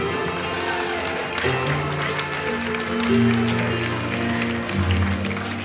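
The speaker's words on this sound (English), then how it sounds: "A round of applause," Wedding guests clap for a father-daughter dance, a sustained ripple of applause under music and a voice talking over it.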